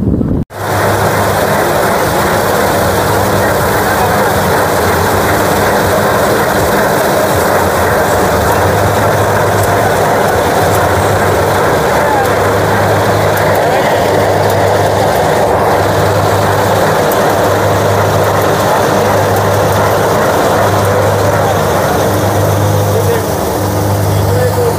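Tractor driving through a wheat field during harvest, a steady loud engine drone with constant rumble and wind, unbroken for the whole stretch, with someone talking over it.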